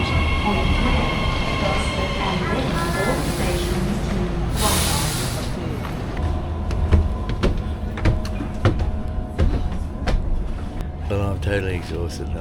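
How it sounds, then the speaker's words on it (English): A commuter train pulls into a station platform near Wyong, its wheels rolling and squealing faintly with steady rumble and brake hiss, while people talk nearby. "here comes our train now"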